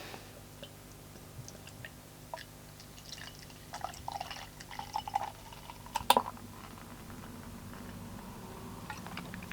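Wadworth 6X beer is poured into a glass, a soft trickling and dripping that builds to a fizzy gurgle midway, then settles into quiet foaming.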